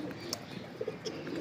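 Breeder pigeons cooing softly in a loft, a few low, brief coos rising over a quiet, steady background hum.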